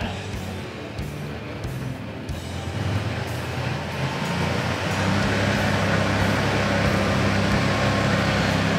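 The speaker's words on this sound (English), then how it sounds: "So we're gonna throttle up." The engine of a 12 GPM, 3500 PSI portable jetter throttles up, growing from a steady rumble to a louder, fuller roar midway through and holding there, with no talk.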